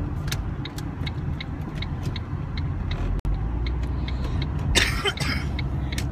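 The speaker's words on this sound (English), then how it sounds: "Except for this cough." A single harsh, bursting cough from someone recovering from an illness rises near the end, over a steady low rumble of road traffic in a painting-class setting.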